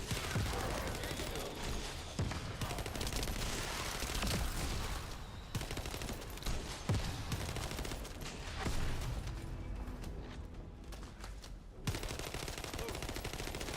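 Grenades and weapon fire burst in rapid, overlapping blasts during a fight in the video game The First Descendant, a dense and continuous barrage that rises and falls for several seconds.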